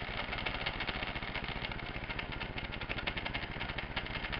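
Small electric motor of a homemade electric toy car runs with a steady rapid buzzing rattle, close and moderately loud, continuous throughout.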